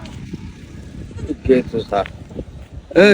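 A goat bleats loudly near the end, a wavering nasal cry following scattered voices and outdoor chatter.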